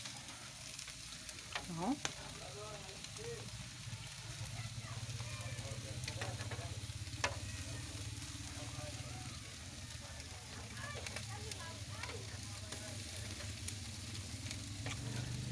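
Fish sizzles steadily while grilling, flipped with an iron oven rod, a constant frying hiss with occasional metallic clicks and knocks, and a brief spoken word.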